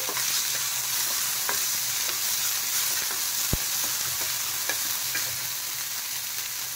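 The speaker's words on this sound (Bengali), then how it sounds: "এখন সব একসাথে আমি দিয়ে দিয়েছি, দিয়ে হালকা ভেজে নেব" Chillies, grated ginger and garlic frying lightly in oil, a constant close sizzle with occasional stirring taps and one sharp pan knock partway through.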